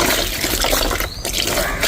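Vegetable slurry liquid fertilizer pours from an opened pipe into a container, a loud, continuous splashing gush with no pauses.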